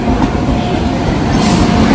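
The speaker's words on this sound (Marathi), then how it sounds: "तर मंडळी फायनली ट्रेन आली आहे" A passenger train pulls into a busy railway station on the way to the Gangapur pilgrimage site, giving a steady close rumble of wheels and carriages with faint clatter and no talk.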